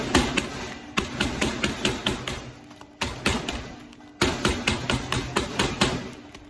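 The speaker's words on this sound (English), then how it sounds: "what I'm going to do with the biscuits is smash them up a little bit" Rapid repeated thumping and crunching blows smash biscuits for rocky road, in quick rhythmic bursts with brief breaks between them.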